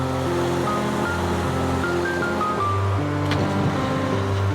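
Water flowing out of Manathal lake at a picnic spot, a steady broadband rush that fills the whole stretch at close range, with faint tonal hum and no voices.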